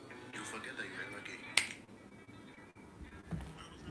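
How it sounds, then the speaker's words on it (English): A single crisp finger snap sounds once, briefly, over quiet background talk. "I snap my fingers."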